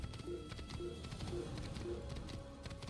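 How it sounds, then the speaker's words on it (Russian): A white horse's hooves clip-clop in the Assassin's Creed video game, faint regular hoofbeats trotting at a steady rhythm under quiet background sound. "Просто моя белая лошадка."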